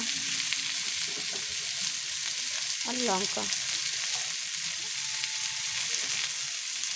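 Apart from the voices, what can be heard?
onions frying in a pan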